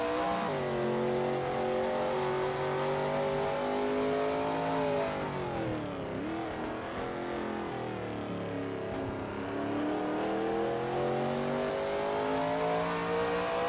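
A Shelby Mustang GT350R race car runs through Cunningham Corner at Sebring, its engine roaring loud and continuous, pitch dropping and climbing as it brakes and accelerates through the turn, with no talking.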